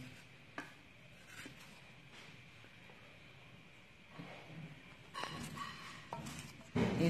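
Peeled fruit such as apple is chopped finely with a knife for fruit chaat, making faint, irregular taps on a board that grow a little louder and quicker toward the end.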